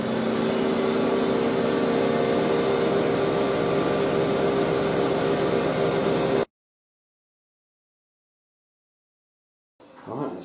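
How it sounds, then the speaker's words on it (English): A washing machine on a long spin cycle gives a loud, steady, broadband whirring roar for about six seconds, then cuts to silence before a brief burst of the same whir returns at the end. "that's why I put it onto a longer spin."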